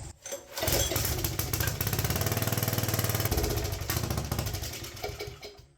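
A Troy-Bilt garden tiller's small engine running steadily at close range, a loud, rapid, even chugging that rises after starting and tapers off near the end.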